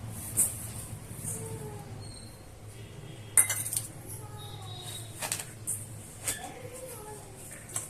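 Banana and sugar are mashed in a bowl, with intermittent clinks and scrapes of utensil against the bowl at close range, under soft speech.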